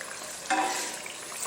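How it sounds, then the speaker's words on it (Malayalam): Coconut oil hits a pan of tuna pickle masala with a brief frying sizzle and a soft stir, rising sharply at first and then settling into a faint, steady crackle over about a second. "നെയ്യ് വറുത്ത വെളിച്ചെണ്ണ കുറച്ച് ഒഴിക്കാം."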